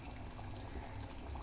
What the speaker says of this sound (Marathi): आपल्याला हवं असेल तर आपण सूप टाकूया